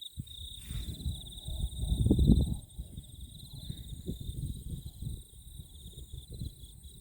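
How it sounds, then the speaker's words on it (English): Cicadas shrill steadily in coastal bush on the Awhitu Peninsula near Manukau Heads, a loud, continuous high buzzing chorus that runs the whole time, with faint rustling and low handling noise underneath. "Can you hear the cicadas?"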